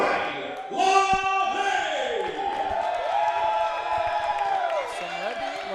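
Wrestling crowd at a 2PW event cheering and shouting for the wrestler LaVey during his ring introduction, a steady roar of voices with whoops rising over sustained noise.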